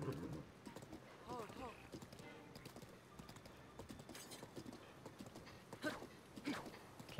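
A giant horse gallops with steady clip-clop hoofbeats in Zelda: Breath of the Wild, mixed with game sounds under continuous spoken commentary.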